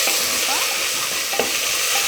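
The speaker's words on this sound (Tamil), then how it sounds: "சேர்த்து நல்லா மிக்ஸ் பண்ணி விட்டுறலாம்." A spoon stirs mint and coriander leaves and green chilli into a pot of coconut milk biryani, a continuous close scraping stir over a steady frying sizzle with no one talking.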